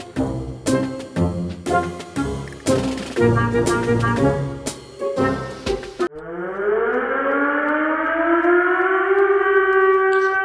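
Rhythmic electronic beeps and clicks give way to a loud, steady siren wail that rises and holds, sounding synthetic and close; a siren in the video game Indian Bike Driving 3D.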